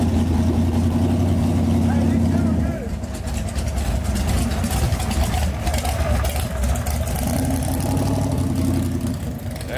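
A Ford Mustang idles with a loud, lumpy engine burble at close range, the rumble dipping briefly then settling back to a steady throb.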